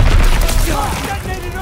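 Loud, dense explosive booms from demolition charges detonating at a bunker in the World War II shooter Call of Duty: WW2, a heavy low rumbling burst that rolls on briefly with crackling debris.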